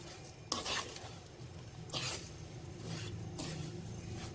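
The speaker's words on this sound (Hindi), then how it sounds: "अब इसको हम 5-7 मिनट जो है ना वो ऐसे भूनते रहेंगे अच्छी तरह" Chickpea flour mixture roasting in ghee in a pan for chana panjiri, stirred steadily with a spoon, giving soft scraping strokes over a low continuous sizzle, with no voices.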